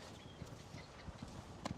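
Racehorses galloping on a deep Wexford sand gallop over a crumb rubber base, a faint rhythmic series of soft muffled hoofbeats passing with no talk.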